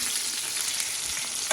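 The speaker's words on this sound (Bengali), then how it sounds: "এই যে মাছগুলো ভাজা হচ্ছে" Pieces of rohu fish fry in moderately hot oil, giving a steady, close, bright hiss and crackle with no voices.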